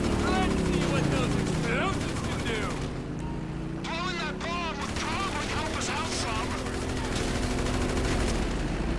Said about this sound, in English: I don't even know who's shooting me.